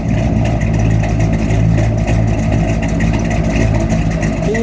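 A 1964 Chevrolet Impala SS with the 409 engine and four-speed idles loudly and steadily, a continuous low rumble close by with no break for the whole stretch.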